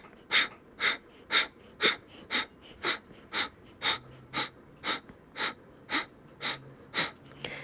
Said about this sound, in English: You can stay right here or practice Kapalabhati breath.